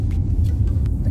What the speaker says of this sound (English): the road noise is really, really bad